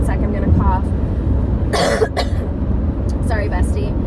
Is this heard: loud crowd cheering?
no